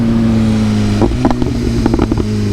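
A 2025 BMW S1000RR with an aftermarket exhaust and tune idles with a loud, steady drone, then blips through a quick series of sharp revs and downshift pops close by.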